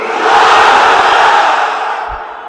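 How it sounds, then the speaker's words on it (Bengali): A large religious gathering shouts the takbir in unison, one loud sustained roar of many voices that swells and slowly fades over about two seconds. "আওয়াজ তুলে তাকবীর পড়েন, লিল্লাহে তাকবীর"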